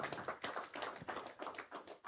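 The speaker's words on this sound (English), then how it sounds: "You can clap." An audience at a business talk claps, a soft, steady patter of many hands heard faintly from a distance.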